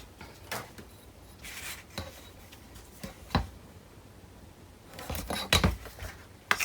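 Scissors cut off excess cover material in a series of separate, sharp snips, spaced unevenly and growing busier toward the end, fairly close, against a quiet room with no talk.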